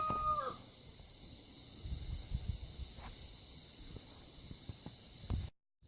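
Roosters crow in the distance over a quiet farmyard, with faint clucking and a few soft knocks before an abrupt cutoff.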